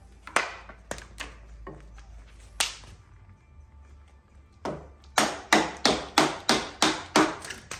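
Chisel struck with a mallet while cutting a timber-frame tenon by the kerf method: a few spaced sharp wooden taps, a pause, then a steady run of about eight loud, evenly rhythmic blows close by.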